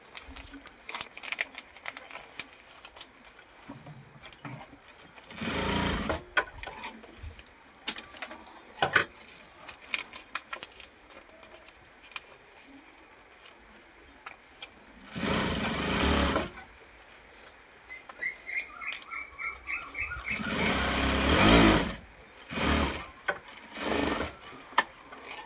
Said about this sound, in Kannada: ಗಟ್ಟಿಯಾಗಿ ಎರಡೆರಡು ಹೊಲಿಗೆ ಹಾಕೋದ್ರಿ ಇದಕ್ಕೆ ಹ್ಯಾಂಡಲ್ಗೆ.